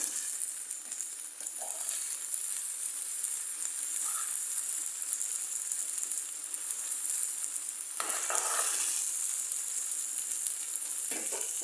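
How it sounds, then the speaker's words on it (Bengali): Okra fries in oil on a stove with onion, green chili, turmeric and chili powder, giving a close, steady, crackling sizzle throughout, with a few louder surges and stirring noises. "আর এই চুলায় ঢেঁড়স ভাজি করে নিচ্ছি। পেঁয়াজ, কাঁচামরিচ, হলুদ, মরিচ সব একসাথে দিয়ে তেলে দিয়ে দিচ্ছি।"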